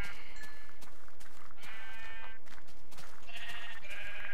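Several sheep bleat in the video game Minecraft, a handful of wavering calls scattered over a steady background hiss, some overlapping, at moderate distance and with no talking.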